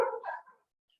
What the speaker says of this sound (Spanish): Los perros están ladrando afuera